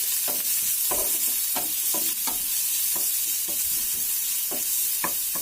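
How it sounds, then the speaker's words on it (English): Finely chopped onion frying in hot oil, with a steady bright sizzle throughout and repeated scraping stirs of a spoon against the pan at irregular intervals, no voices. "To that I have added 1 medium size onion, finely chopped. I'm going to give it a stir."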